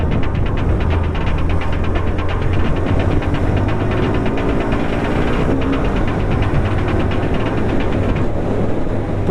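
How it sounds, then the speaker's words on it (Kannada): A 2026 Hero Xtreme 125R motorcycle with dual-channel ABS runs with a loud, steady engine hum and throbbing exhaust drone that continues without a break, heard up close. "ಎಕ್ಸಾಸ್ಟ್ ನೋಟ್ ಕೂಡ ತುಂಬಾ ಚೆನ್ನಾಗಿದೆ."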